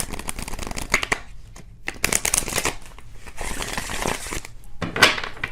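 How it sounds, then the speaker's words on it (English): Tarot cards are shuffled in several quick riffling bursts, crisp and close, with brief pauses between. "One more shuffle, and then we'll pick some cards here."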